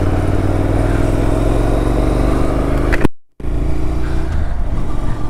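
A motorcycle engine runs loud and steady throughout, a continuous road drone with a brief full cutout partway before the sound resumes.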